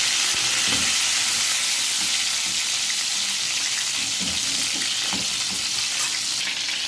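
Peshawari beef kababs fry in hot ghee in a pan, giving a loud, steady, dense sizzle and crackle that fills the whole stretch without a break.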